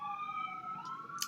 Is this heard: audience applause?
no